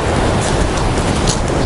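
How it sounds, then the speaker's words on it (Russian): Storm waves breaking on a pebble shore by a breakwater at Sochi during a fierce storm, a loud continuous roar of surf mixed with heavy wind buffeting, close and unbroken throughout. "Здесь прям волна хорошо выходит вот аж сюда."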